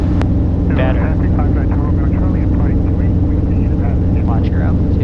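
Robinson R22 training helicopter in flight, its engine and rotor giving a steady droning hum inside the cabin beneath ongoing pilot radio and instructor talk.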